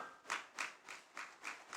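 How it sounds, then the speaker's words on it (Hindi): A church audience at a Sunday sermon claps in a steady, even rhythm, about three claps per second, moderately faint and with no talking. "आपकी तालियां बज जाती हैं"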